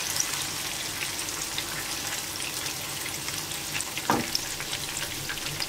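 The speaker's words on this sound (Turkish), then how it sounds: "Kızaranları çeviriyorum." Zucchini fritters fry in a pan with a steady close sizzle, broken by a brief clatter as one is turned.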